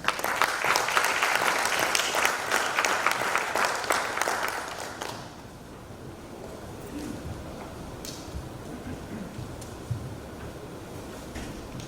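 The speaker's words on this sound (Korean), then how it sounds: "큰 박수로 환영해 주시면 감사하겠습니다." Audience applause at a Chongshin University development-plan presentation welcomes a speaker to the stage, loud and dense for about five seconds before stopping abruptly into quiet room tone with a few faint stray sounds.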